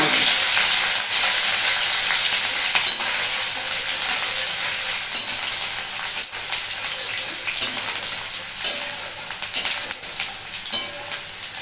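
Chopped tomato, garlic and green chili fry in oil for a capsicum paneer korma, giving a loud, steady sizzle with scattered clicks and scrapes of stirring throughout.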